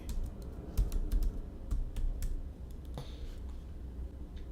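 Rapid, uneven keystrokes come from a computer keyboard at close range over a low room hum, in short bursts with brief pauses and no talk.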